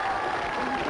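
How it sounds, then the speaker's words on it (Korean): Brief burst of applause, a crowd clapping in a dense wash for under a second. "박수 한번 주세요"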